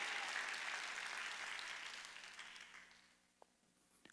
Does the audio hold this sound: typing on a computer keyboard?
no